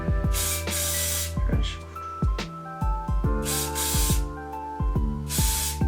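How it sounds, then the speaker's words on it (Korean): Hair spray hisses onto hair to set the curls, in several short separate bursts spread across the stretch, each fairly loud and close, with brief pauses between and a faint background hum. "조금 멀리 떨어진 그 부분에서 스프레이를 분사해 주세요"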